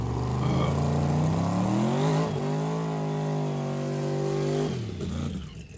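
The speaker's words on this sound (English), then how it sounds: "so let's watch this burnout, guys" A turbocharged race car holds a loud, sustained engine drone with rising and falling pitch during a burnout, the revs dipping once midway and then dropping off near the end.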